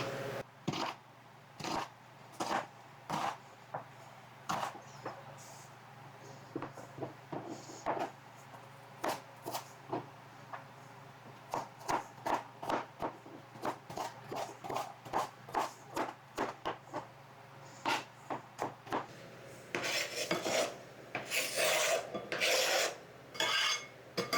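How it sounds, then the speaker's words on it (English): A knife dices food into very small pieces on a cutting board, with a long run of quick, crisp chops at an uneven pace that speeds up in dense bursts near the end. No one speaks. "And I want this cut up into very small dices also."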